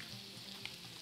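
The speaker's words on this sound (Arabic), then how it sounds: "نبتدي نشوح البصله" Onion sautéing in a pan for tomato couscous, a steady soft sizzle and crackle throughout, close and moderately loud with no voices.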